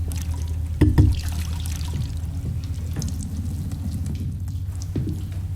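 Water pouring and trickling as a sponge is soaked, a soft steady wet wash with a brief louder splash near the start and no talk.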